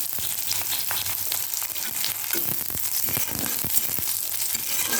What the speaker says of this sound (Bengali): পেঁয়াজ রসুন ফোড়নটা লাল লাল করে ভেজে নিলাম।